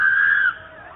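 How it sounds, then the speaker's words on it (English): A woman's high, drawn-out scream for help picked up by a doorbell camera outdoors, one loud sustained cry that breaks off and trails into a fainter wavering call. "Captured on her doorbell camera are the sounds of a woman crying out for help."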